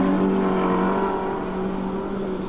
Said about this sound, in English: A big bunch of cars as they come across then.